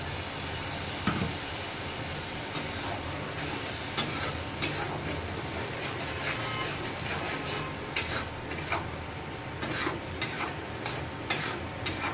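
Bitter gourd curry simmers and fries in a pan, a fairly faint bubbling sizzle with frequent spatula scrapes and knocks that grow busier toward the end; no talking.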